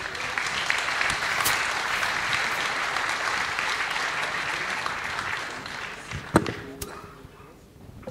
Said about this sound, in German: Also darf ich Sie mit einem großen Applaus verabschieden